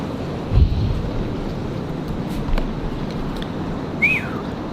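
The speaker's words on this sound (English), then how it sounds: "It is quite the storm, people." Storm wind rushes steadily outside during a tornado watch, a broad low roar with a few stronger gusts and a faint high chirp near the end, with no talking.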